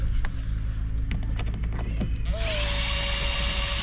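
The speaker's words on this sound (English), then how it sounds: "And then undo these pretty horrible looking screws." Power drill working rusty screws out of a van bulkhead; short bursts of drilling and clicks are followed by a sustained high whirring run near the end.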